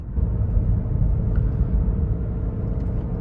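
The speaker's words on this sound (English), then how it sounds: "Just a very smooth engine note." Low, even engine hum of a 2014 Lexus IS cruising along, steady and smooth with no other sounds.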